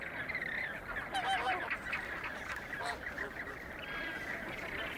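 A flamingo colony nesting on a desert salt pan gives off a continuous chorus of nasal, goose-like honks and gabbling calls that blend into a dense, steady din.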